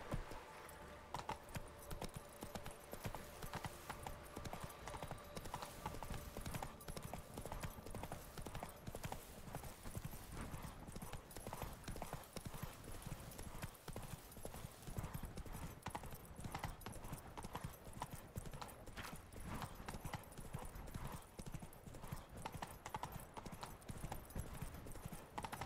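Horse hooves clip-clop in a steady, continuous rhythm while riding in The Witcher 3: Blood and Wine, loud and close, with a soft whinny and a jingle of tack mixed into the game's ambient background.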